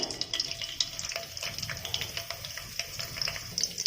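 Curry leaves dropped into hot oil for a village-style drumstick chicken curry, giving a close, steady crackling sizzle with dense popping that runs unbroken throughout, with no voices.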